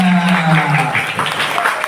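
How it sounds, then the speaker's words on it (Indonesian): Audience applause at a school gathering marking Santri Day, a dense wash of clapping following a voice, filling the short moment at steady loudness. "Oke, tepuk tangan kita semuanya"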